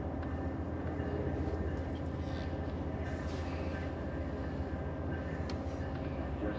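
Steady low rumble of an Amtrak Train 20 passenger car in motion, heard from inside with a continuous rolling drone and faint rattles throughout.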